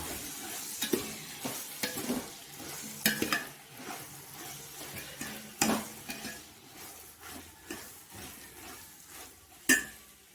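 A vegetable biryani mixture is stirred in a pot with a spoon, giving irregular scraping knocks and clanks over a soft background sizzle, close by with no talking.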